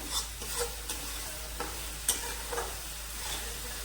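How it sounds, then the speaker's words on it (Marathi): A spoon scrapes and knocks around a frying pan in irregular strokes while thick paneer bhurji gravy sizzles softly underneath. "सतत हलवत राहायचं याला, नंतर खाली चिकटतंय मसाला"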